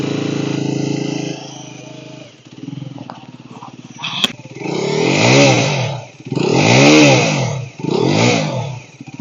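A Mondial HPS 125 motorcycle's engine is cranked over, catches and then revs in several loud rising-and-falling bursts between brief dips to idle, close by with no talk.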